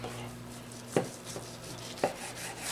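A knife cutting stuffed pork tenderloin into half-inch slices on a board, two distinct thuds of the blade striking through about a second apart over quiet kitchen background.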